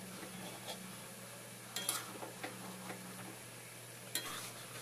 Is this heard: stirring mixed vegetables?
yes